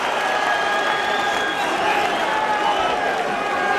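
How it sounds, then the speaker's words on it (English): Steady, dense applause and crowd noise fill a heavyweight boxing arena throughout, loud and continuous with no break. "Marcus McDonald applauding them both back to the centre of the ring"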